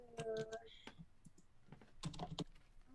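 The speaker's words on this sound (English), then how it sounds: "My keyboard is deciding not to cooperate right now." Typing on a computer keyboard during a live review stream, clusters of quick key clicks in two bursts with pauses, close and fairly quiet, with faint talk in between.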